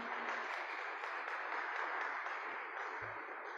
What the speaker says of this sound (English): would you please give our musicians a round of applause for today?